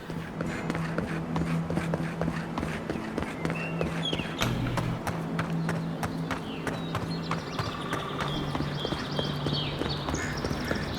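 Horse hooves clip-clop steadily in the fantasy video game Avowed, a quick, regular trotting rhythm of close taps over a low music bed.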